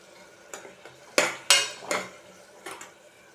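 A spoon clanks and scrapes against a pan while tomatoes fry. There are several sharp metallic strikes in an irregular rhythm over a faint background sizzle, close up with no voices.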